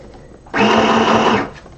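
Sewing machine stitching a bonnet seam, a loud close motor whir starting abruptly, holding steady for under a second, then stopping, with quiet room noise before and after.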